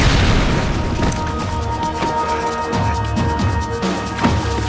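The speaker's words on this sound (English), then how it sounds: "Grenade! Grenade! Down!" A grenade explodes in the Max Payne 3 video game, setting off a heavy boom and crashing debris. Further thuds and impacts follow in a loud, busy burst that carries through the whole stretch.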